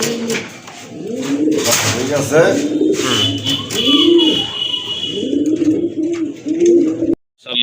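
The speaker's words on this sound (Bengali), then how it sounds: "দেখেন আরেক জোড়া কবুতর, চিলা কবুতর, বাঘা চিলা কবুতর।" Pigeons coo repeatedly nearby in rolling, throaty phrases, with someone speaking briefly among the calls.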